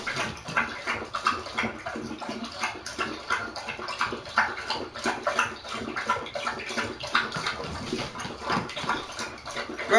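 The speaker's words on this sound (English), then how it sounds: "Y'all gonna hear my dog drinking some water" A dog laps water with rapid, rhythmic wet slurps, close and steady throughout, with no talking over it.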